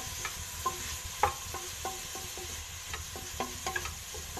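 Sliced courgette fries in a pan under a steady sizzle, stirred with a utensil that makes repeated light scraping and clinking knocks at an irregular rhythm. The sound is close by, with no speech.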